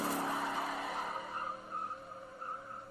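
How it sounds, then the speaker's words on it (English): A Corvette in a Star Trek film scene skids with a continuous, wavering tire squeal over its engine, steady and prominent throughout with no talk. "We have the sound of I think it's a Corvette he's driving"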